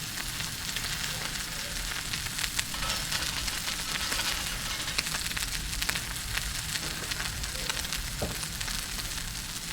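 A New York strip steak sears in a very hot pan inside an outdoor pizza oven, giving a steady, close sizzle with constant crackling hiss from start to finish and no voices.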